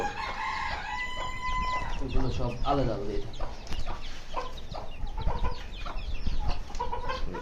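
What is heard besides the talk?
chickens and roosters clucking in an aviary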